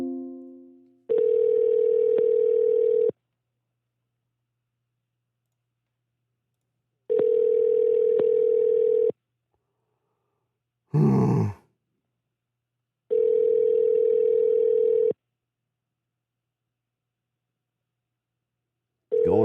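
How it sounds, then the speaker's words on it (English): Telephone ringback on an outgoing call to a laundromat store in Canada: three long, steady tone bursts about two seconds each with silent gaps, broken once by a short burst of noise, with another ring starting at the end. "The excitement of the phone ringing."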